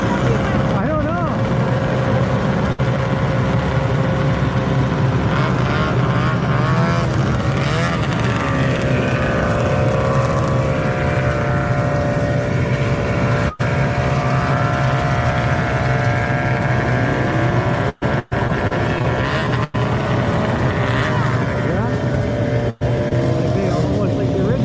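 A group of vintage snowmobiles passes a trail road crossing, a loud continuous roar of two-stroke engines that rises and falls as the machines go by, with people talking over the engine noise.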